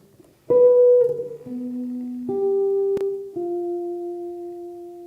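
A jazz guitar plays a brief, darker phrase of a few held, slightly dissonant notes that ring out clearly and alone after a short silence.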